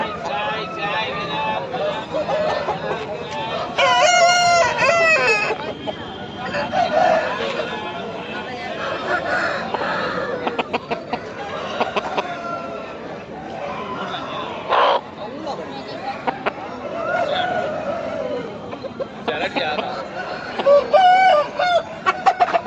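Roosters at a busy weekly poultry market in Pileru crow repeatedly amid clucking fowl and a constant murmur of crowd chatter, with people talking nearby throughout.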